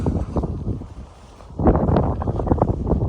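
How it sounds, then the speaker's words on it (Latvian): Wind gusting outdoors on a cool day, blowing in rough bursts against the microphone, easing briefly in the middle before picking up strongly again. "Mēs vienkārši tāds diezgan vējains un diezgan tāds vēss īstenībā."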